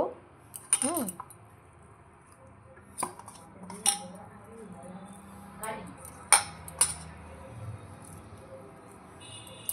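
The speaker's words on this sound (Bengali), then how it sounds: "তার মধ্যে মাছের ডিম, পেঁয়াজ, আলুটা একটু এর সাথে চটকে নেব।" Fish roe, onion and potato being mashed together in a bowl, with scattered utensil clinks and soft squishing, quiet and close, with intermittent pauses.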